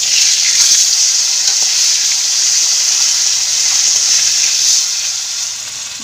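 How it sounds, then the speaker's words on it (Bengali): Kalibaush fish pieces frying in hot oil, giving a steady, loud, close sizzle that holds evenly for several seconds and eases slightly near the end, with no voices. "মাছগুলো ভেজে নেব।"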